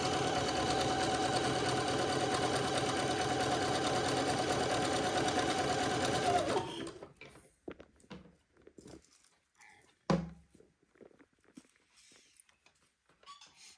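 Sewing machine zigzag-stitching the raw edge of a silk organza bonnet brim, a steady rapid mechanical whir for about six and a half seconds, then stopping abruptly, followed by quiet handling clicks and a sharp tap.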